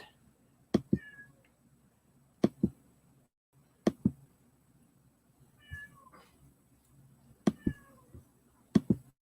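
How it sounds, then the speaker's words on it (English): A house cat meowing outside a door, several short meows between sharp scratching and knocking bursts against the door, close and fairly loud over a quiet room. "Our cat wants in. Sorry for any interference. She's scratching at the door."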